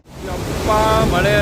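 Spray from the Benne Hole waterfall comes down like rain, forming a close, loud, steady rushing hiss that swells in after a brief silence, with a voice briefly audible near the end.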